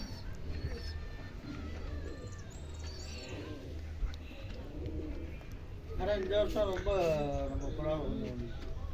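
Pigeons coo in soft, throaty bursts close by, joined by a voice speaking, with the cooing growing fuller and louder near the end.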